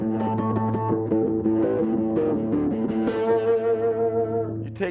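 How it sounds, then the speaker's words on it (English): A bass guitar runs through a distortion pedal, giving a gritty, sustained tone that plays a melodic line of held and shifting notes, loud and alone. "To give me a little more grittiness to it, distortion."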